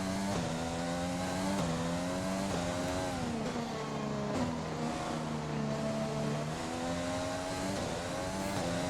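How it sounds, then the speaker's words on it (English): A racing car engine in the F1 2020 video game whines and revs continuously, rising and dipping in pitch with gear changes, loud and steady with no talking. "Hear the engine go when I turn it into overtake mode"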